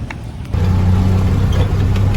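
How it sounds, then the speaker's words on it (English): A tuk-tuk's engine drones steadily while riding, a close mid-pitched motor rumble that grows louder after a brief quieter start. "So we're riding a tuk-tuk now."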